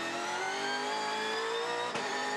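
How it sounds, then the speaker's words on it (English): A V8 touring car engine revs up with a rising whine at Winton, heard from a distance with a brief tonal shift near the end. "you really heard the engine revs go up."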